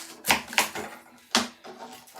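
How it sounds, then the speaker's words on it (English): A knife chops through an onion for a cucumber and onion salad, landing three or four crisp, close thuds on a cutting board with short gaps between them. "What you want to do is cut your onion in half"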